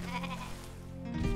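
A sheep in the video game Rain on Your Parade gives one short, close, wavering bleat over a constant game background.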